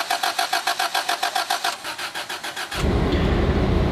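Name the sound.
VW Polo car engine trying to start with a flat battery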